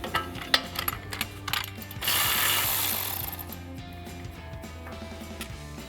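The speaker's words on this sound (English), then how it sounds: "And then we can switch to our 8mm socket for the bolt holding our ABS line in." Ratchet with an 8mm socket loosening the ABS line bolt on a 2014-2020 Ford F-150, rapid clicking bursts, then a louder sustained rasping stretch before fading into softer ticks and metallic clinks.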